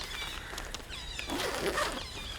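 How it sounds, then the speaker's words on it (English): A tent's entrance zipper being zipped along its door, a scratchy, continuous rasp that rises toward the end, fairly close and alone with faint background hiss. "there'll be one side that's the entrance that you can zip up"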